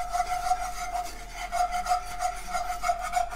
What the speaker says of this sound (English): So I recommend using a wire whisk. Breaks up all the flour clumps.